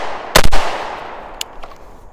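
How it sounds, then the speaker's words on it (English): A single sharp, loud report from an unsuppressed SIG MCX LT rifle in 300 Blackout firing a 220 grain bullet, with a quick echo and fading outdoor tail. "is testing first to see whether or not this thing will fire without a suppressor"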